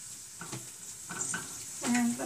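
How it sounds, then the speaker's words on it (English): Onions and habanero peppers sautéing in a pan, a soft sizzle with a few stirring scrapes spaced through the short stretch, fairly quiet and close. "Saute this for like about 3 to 5 minutes, I would say."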